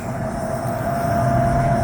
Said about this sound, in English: here comes that train